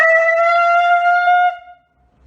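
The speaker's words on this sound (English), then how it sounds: "This is the part of our high holiday service where we blow a shofar." A shofar, a ram's horn, blown at a high holiday service: one steady, bright brassy note held about a second and a half, close and loud, then fading out.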